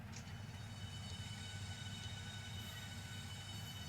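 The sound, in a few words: Nova 1 train moving in Train Simulator video game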